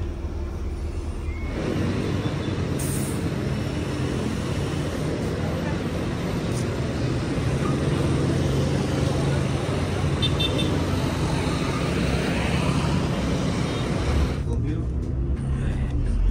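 Intercity buses crowd a road on a Tasikmalaya–Jember route in Indonesia, a steady dense traffic roar with a short horn toot early on, continuous and fairly close throughout.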